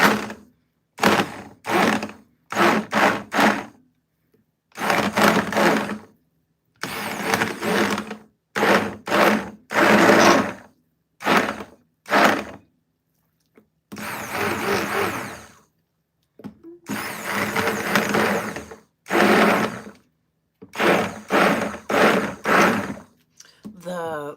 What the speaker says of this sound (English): The blender wants to like suck it down to the bottom of the bowl, so I'm trying to be really careful.